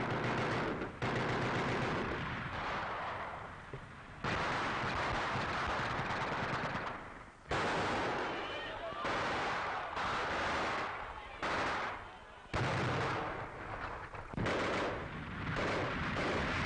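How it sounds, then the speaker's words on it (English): Bursts of machine-gun fire and heavy tank or artillery shots ring out in WWII street fighting near the Eiffel Tower during the 1944 liberation of Paris, a dense, loud, crackling barrage with shifting intensity and no clear talk. "A tank and machine gun skirmish was waged at the foot of the Eiffel Tower."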